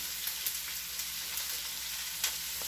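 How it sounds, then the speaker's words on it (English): Five cups of onions hit a hot pan on high heat, a steady close sizzle with a few faint clicks and stirring ticks, no voices. "And here they are, and we've got about 5 cups of onions. Throw them all in there."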